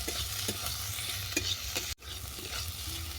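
Potato and gourd peel stirred in a frying pan, a steady sizzle with a few scraping strokes of the spatula, close and continuous, with a brief dropout partway through.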